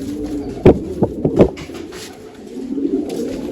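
Pigeons kept in a backyard loft cooing, with a few short bursts of bird sound in the first half and then softer murmuring, close by, with no talk.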